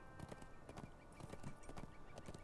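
Steady clip-clop of horse hooves trotting in an even rhythm, moderately quiet, with no talking, in the video game The Lord of the Rings Online.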